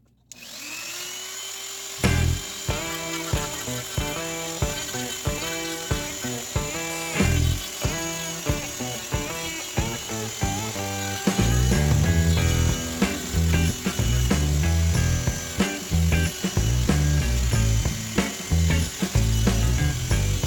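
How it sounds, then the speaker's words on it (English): A Dremel rotary tool cuts into a Strat-style guitar pickguard, giving a steady high whine broken by repeated short bursts of grinding and rattling contact, louder and denser toward the end, with no voices. "the rotary tool, or Dremel, whatever you want to call it"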